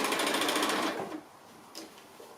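A sewing machine stitches around a cylinder-shaped fabric pin cushion, running loud and steady at close range for about a second before stopping, followed by a faint short whir.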